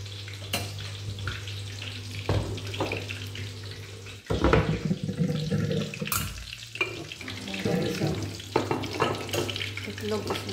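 Eggs fry in a pan at breakfast with a sizzling hiss, punctuated by sharper clatters and scraping, and the sizzle swells louder partway through over a low steady hum.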